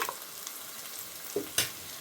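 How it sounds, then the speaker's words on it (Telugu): Ginger garlic paste frying in a pan for an Andhra-style mutton curry, a low steady sizzle with a couple of brief stirring scrapes near the end. "ఇది మనం వేసేసుకొని కొంచెం ఫ్రై చేసుకుంటే సరిపోయింది"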